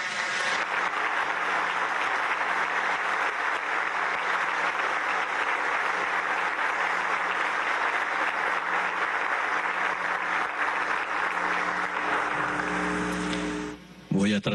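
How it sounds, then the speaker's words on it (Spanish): Sustained, loud applause from a large crowd at a beatification ceremony, a continuous roar of clapping lasting many seconds before cutting off abruptly near the end, with a voice briefly audible. "Voy a transmitir al Papa este aplauso."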